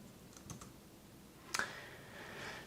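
Sparse, quiet keystrokes on a computer keyboard: one soft tap, then a sharper click a second later, with little else around them.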